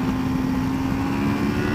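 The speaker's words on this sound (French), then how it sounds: "On va le faire crier un petit peu le moteur pour voir ce qu'il a dans le ventre." A 2016 Honda Crossrunner motorcycle engine runs with a steady, loud, close drone and a firm humming tone, held evenly without a clear rise.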